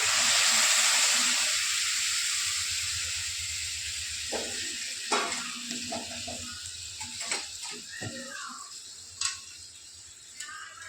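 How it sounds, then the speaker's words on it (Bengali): Hot water poured into a frying pan of spiced teasel gourd and potato curry sets off a loud burst of sizzling hiss that slowly fades, followed by softer bubbling, scattered clinks and a few spoon scrapes. "আমি এই পাশে একটু গরম জল করে নিয়েছি, গরম জলটা দিয়ে দিচ্ছি।"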